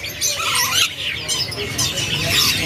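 Many caged birds chirp and tweet busily at a stall in the Pramuka bird market, a dense overlapping chorus of high calls close by, with faint voices in the background.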